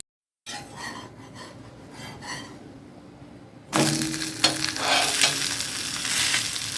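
A wheat adai dosa sizzles on a hot pan after being flipped, a quiet frying hiss that suddenly swells into a loud, steady crackling sizzle with scraping touches.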